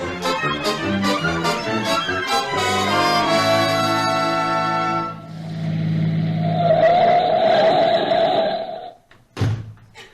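An old-time radio comedy sound effect of a car starting up and driving off, with rhythmic engine chugging that gives way to a sustained whine and roar, then a brief sharp noise at the end.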